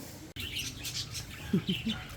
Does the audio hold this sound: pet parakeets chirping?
yes